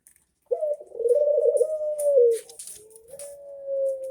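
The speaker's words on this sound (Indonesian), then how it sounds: "ini contoh dari puter lokal" A local turtle dove (puter lokal) coos alone in a plain, monotonous call of long, steady drawn-out notes with a short break, close and clear.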